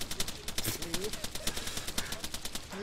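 Rapid, loud automatic gunfire from a military shooter game, Arma 3, crackles in steady bursts of sharp cracks, with faint voices underneath.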